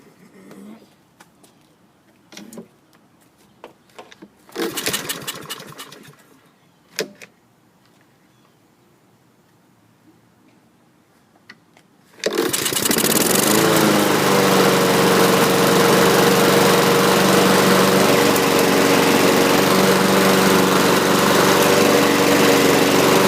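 A 2015 Husqvarna walk-behind lawn mower: a few scattered knocks and rattles, then the pull-start catches and the small engine roars into a steady, loud, continuous run close by.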